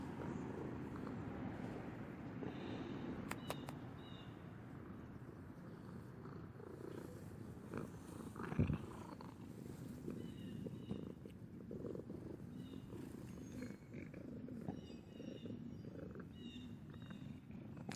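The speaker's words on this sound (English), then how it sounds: "Can you hear the purr, purr, purr?" A cat purring close up in a continuous low, rumbling drone that holds steady throughout, soft and even, with faint higher chirps and one brief thump partway through.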